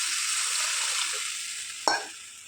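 Continuous sizzling in a hot pan, then a sudden louder hiss as tamarind water hits the pan and the sizzle slowly settles.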